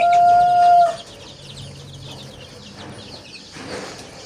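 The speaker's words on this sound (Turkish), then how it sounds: "Burada böyle zaten anne altında civcivlerimiz var." Chickens and chicks clucking softly in a coop, with a brief high peeping tone at the start and scattered low clucks and chirps throughout.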